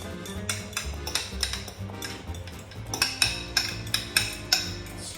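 A utensil scrapes mashed bananas out into a mixing bowl for banana bread, making several clinking, scraping strokes against the dish. The strokes start irregular and settle into a steady rhythm.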